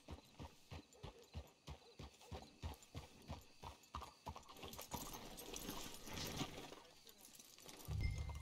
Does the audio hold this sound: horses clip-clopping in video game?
yes